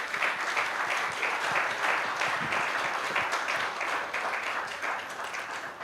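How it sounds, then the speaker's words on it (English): A conference audience applauds the panelists after a discussion on the constitution, sustained dense clapping from a large room that holds steady throughout, with no talk over it. "express our gratitude to them with an applause"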